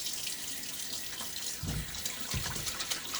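Tap water runs steadily into a sink during a wet shave with a Gillette Tech Hybrid razor and sandalwood shaving soap, a constant near splashing hiss with a couple of heavier gushes partway through.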